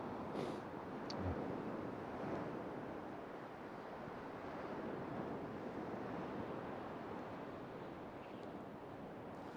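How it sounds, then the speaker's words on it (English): Strong wind sweeps the shingle shore at Dungeness, a constant loud rushing roar buffeting the microphone, with surf breaking underneath and no voices. "the wind is stronger than it's forecast"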